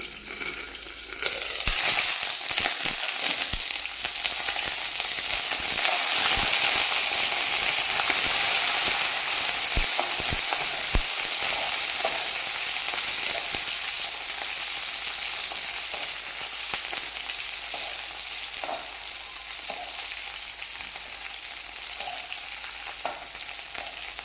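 Green chillies roasting in a pan for Kolhapuri thecha, a steady loud sizzle and crackle with occasional scraping stirs and clicks, no voices, holding for the full stretch.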